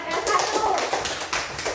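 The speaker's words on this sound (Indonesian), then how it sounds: "Tepuk tangan dulu buat kelompok 1." Classroom clapping for a student group: a short burst of hands clapping in a rhythmic, patterned beat from a group of children, moderately close, with some voices underneath.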